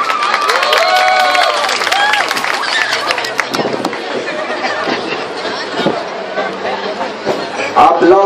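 At a costumed dog contest in a shopping plaza, a crowd claps and cheers for dancers, steady applause and chatter under a busy mix of voices and background music, lasting several seconds.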